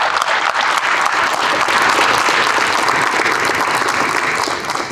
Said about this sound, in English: Let's hear for Nick Mahoudis